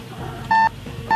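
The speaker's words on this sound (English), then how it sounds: "Timer, start now." An electronic timer gives two short, clear beeps about half a second apart, with quiet background noise between them and no talking.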